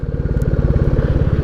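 A Royal Enfield Classic 350 motorcycle running steadily in third gear while climbing a slope, with a loud, close, even engine thump throughout and no talking.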